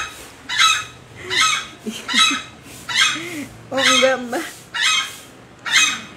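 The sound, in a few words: bantam chicken clucking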